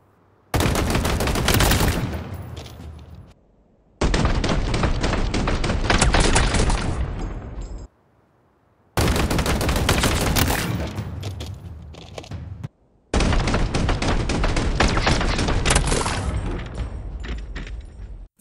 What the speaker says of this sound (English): here's a side-by-side of the AR and Commando to compare the weapon kill times